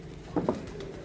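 Red-beaded pigeons give a soft double coo, two brief close notes in the middle of a short, quiet stretch.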